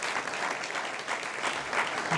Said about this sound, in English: So how about a round of applause for...